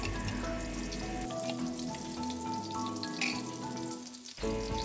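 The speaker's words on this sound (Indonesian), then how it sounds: "Ini bumbunya saya tumis sampai wangi ya" Spice paste for a stingray coconut-milk stew sautéing in a pan: a steady, close sizzle and crackle with tonal background hum, running continuously with no talk.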